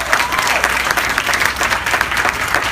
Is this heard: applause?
yes